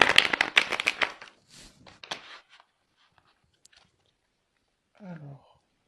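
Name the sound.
tarot cards being shuffled and drawn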